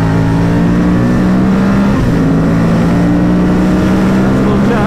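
An Aprilia RSV Mille R motorcycle pulls hard at full throttle on wet roads on the Isle of Man, its engine a loud, steady, close drone with a slowly rising pitch, masked by heavy wind rush.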